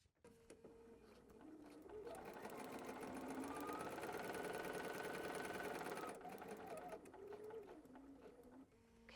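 A sewing machine stitching foundation paper piecing runs in a steady, even mechanical whir for several seconds, close and fairly loud, starting and slowing to a stop with soft clicks either side.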